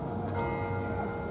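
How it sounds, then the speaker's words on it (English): Church bells ring steadily and fairly quietly, their sustained hum and overtones blending into a continuous drone with no clear individual strikes, heard from a distance outdoors. "The bells were still going."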